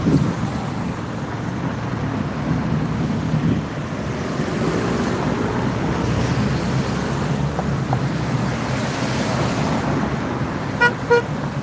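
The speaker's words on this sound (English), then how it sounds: "Got a little honk." A car horn gives a couple of short toots near the end of a stretch of steady street traffic noise at a protest in Austin, with wind buffeting the microphone throughout.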